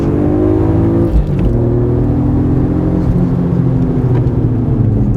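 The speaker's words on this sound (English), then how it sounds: "All right, full throttle." A supercharged BMW E36 M3 with a Dinan Stage II setup accelerating at full throttle, a loud, close engine roar with rising harmonic pitch, a brief dip at a gear change, then climbing again.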